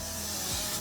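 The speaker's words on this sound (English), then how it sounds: "So I'm going to go in with the Got To Be Glued spray." Got To Be Glued hair spray hisses from a can in one brief, steady, close-up burst, with no talking.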